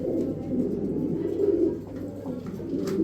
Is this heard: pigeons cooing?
yes